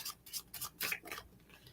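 Tarot cards are shuffled in short riffling bursts, a quiet, close series of rustling, scraping passes with brief pauses between, with no talking.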